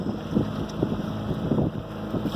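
A sailboat under sail on a lake, moving at close to five knots between islands, with steady wind rush and water noise around the hull. Soft low sloshing rises and falls continuously at a moderate level, and no one speaks.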